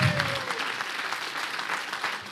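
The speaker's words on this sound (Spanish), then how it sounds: "Amén, gloria a Dios, un fuerte aplauso." A church congregation breaks into applause during a Sunday service, a steady wash of many hands clapping at moderate volume, with a faint voice briefly audible at the start.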